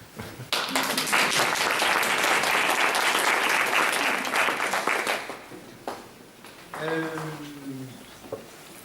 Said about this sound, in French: je vous propose qu'on l'applaudisse